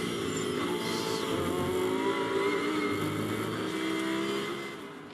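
GT race car engine heard from onboard during Brands Hatch qualifying: a steady, loud, buzzing drone with shifting harmonics as the car works through corners, continuous throughout and easing slightly near the end.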